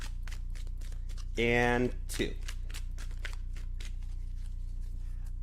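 A tarot deck being shuffled, giving a rapid run of dry card clicks and flutters from start to finish, broken briefly by a short spoken phrase.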